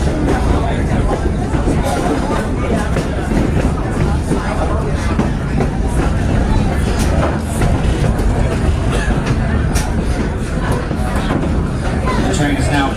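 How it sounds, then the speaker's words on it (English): A passenger train on the trip to Mount Rainier rolls to a stop, a steady rumble with rail clatter continuing throughout under the babble of passengers talking nearby. "The train eventually comes to a stop and it's time to disembark."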